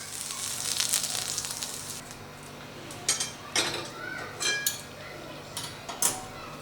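Fried onion and capsicum tip into hot masala in a kadai, setting off a steady sizzle with several sharp clinks and scrapes of a spoon against the pan, close and clear.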